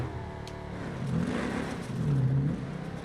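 A car engine in a racing video game revving as it drives, a mid-pitched whine that rises and swells twice over a few seconds, steady and alone.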